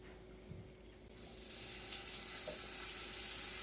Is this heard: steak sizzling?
yes